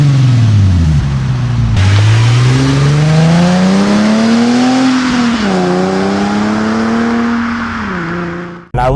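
An Infiniti G37 with a Manzo axle-back exhaust revs loud and close, the tone climbing in a long sweep, dipping, then rising again before it cuts off abruptly.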